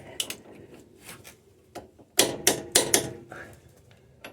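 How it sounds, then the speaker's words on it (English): A torque wrench ratchets on the shackle bolts of a 1996 Jeep Cherokee XJ 4x4, giving sharp, irregular clicks and knocks close by, with a tighter burst of clicks near the end. "Now I'm going to use a torque wrench to do the final snugging"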